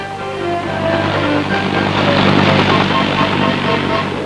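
A loud, steady U.S. Army helicopter drone with a continuous rotor rumble holds evenly throughout, close and dominant.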